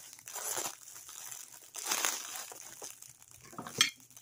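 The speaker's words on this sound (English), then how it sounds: "And here again, we have saran wrap." Saran wrap plastic film crinkles and crackles in several bursts, close and fairly loud, with brief pauses between handlings and a sharp crackle near the end.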